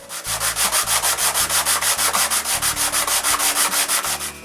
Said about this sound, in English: I rub the back of the rabbit on a sheet of sandpaper